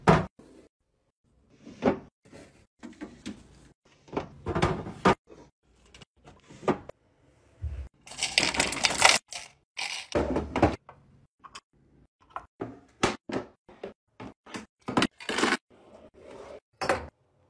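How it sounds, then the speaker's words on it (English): Bathroom cabinets and drawers are restocked in an ASMR setting: a string of close, crisp clicks, knocks and thuds from doors, drawers and items being set down, with a brief rustling burst midway and no talking. "Last thing I need to do is restock my cabinets and drawers"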